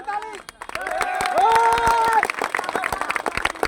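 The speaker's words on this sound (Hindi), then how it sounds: "जोरदार ताली।" Loud crowd applause at a public speech, a dense burst of clapping that swells and continues for several seconds, mixed with crowd noise and a voice speaking over it.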